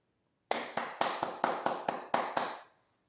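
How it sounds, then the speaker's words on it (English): A rhythmic run of about nine sharp hand claps, crisp and close, spaced in a quick, slightly uneven flourish before stopping and fading into silence. "let me hit y'all with the proper / fancy hand clap"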